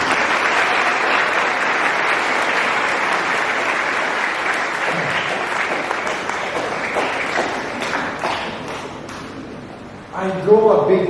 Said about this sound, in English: Shall we all give them a big round of applause?